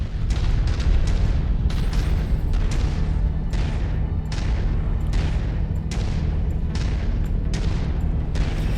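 Repeated booming missile explosions from MechWarrior 5 combat, a dense run of heavy blasts about every half second to a second over a constant low rumble of mech machinery, loud and close.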